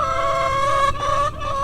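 Backyard chickens cluck and call near an A-frame coop, a loud, close run of sustained tonal squawks that break off briefly and resume, with no talking over them.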